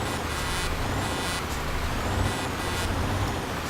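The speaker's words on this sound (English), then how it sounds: "Excuse me, big fucking truck coming through." A big rig rolling through traffic in Euro Truck Simulator 2, with a steady engine drone and several sharp hissing bursts of air brakes released over it, close and loud with no talking.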